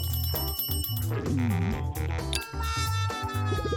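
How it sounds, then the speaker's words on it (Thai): An incoming-call ringtone for a phone in a cartoon plays as a loud, repeating electronic jingle, bright and tonal. It sounds with busy music and no talk. "มีสายเข้า"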